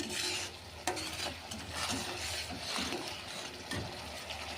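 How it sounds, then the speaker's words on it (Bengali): Salt, turmeric, cumin and chili powder being sautéed in a pan, with steady stirring scrapes and a soft sizzle under them and occasional sharp clinks of the utensil, close up. "দিয়ে সুন্দর করে মশলাটা সাতলায় নিব।"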